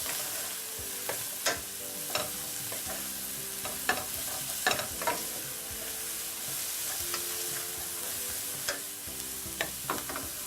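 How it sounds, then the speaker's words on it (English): Cauliflower sautéing in butter in a pan gives a soft, steady sizzle, broken by repeated sharp scraping knocks of a utensil stirring, close and fairly quiet, no speech. "to throw in the cauliflower. So I'm just going to dump that in there. Stir things up."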